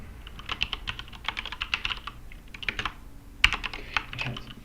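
Code being typed for a Rust compiler change on a computer keyboard: quick irregular bursts of crisp key clicks with brief pauses and one sharper keystroke near the end, close up and with no talk.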